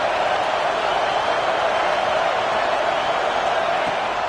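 Stadium crowd noise at an LSU versus Alabama college football game, a loud, steady roar of cheering fans filling the air without a break.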